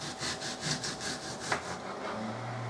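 A knife slicing an apple into thin 2 to 3 millimetre slices for apple chips makes a rhythmic series of soft, close cutting strokes over a steady background hiss.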